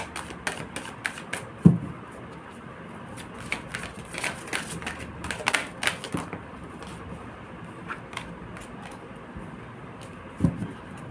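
Tarot cards being shuffled vigorously, a quick series of close, sharp riffling slaps and snaps in uneven bursts, with a faint voice in the background.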